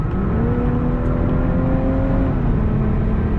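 A 2018 BMW 340i with an inline six-cylinder twin-turbo engine accelerates hard, a loud, close, steady engine roar with rising tonal whine throughout.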